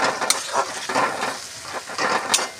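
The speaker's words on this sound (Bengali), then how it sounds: "এবং হালকা করে একটু ভেজে নিই" A ground paste of ginger, poppy seed, melon seed and green chilli fries in oil while being stirred, giving a dense close sizzle with spoon scrapes and small clatters, with no voices.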